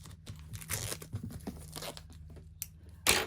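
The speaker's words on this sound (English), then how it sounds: "Just get some scissors to undo the wrap." Plastic shrink wrap being torn and peeled off a boxed Commodore 64 book, with a series of close, crinkly rips and crackles in short bursts and a sharper tearing rip at the end.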